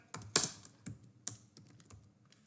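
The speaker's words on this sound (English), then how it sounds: "Now I will type" Close, crisp keystrokes on a computer keyboard while entering Java code, about a dozen irregular clicks with one heavier key press, no voices.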